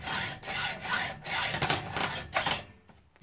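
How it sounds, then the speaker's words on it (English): A hand saw cuts a groove in a chassis part for a robot build, rasping in steady back-and-forth strokes about three per second, close and loud, then stopping. No one speaks. "we're going to go ahead and complete sawing that off"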